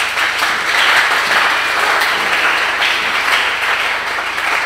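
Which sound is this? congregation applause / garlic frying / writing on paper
congregation applause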